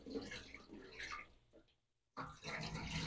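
A cup of wheat grains is rinsed in water, with splashing and sloshing, a brief pause, then renewed running and swirling water close by.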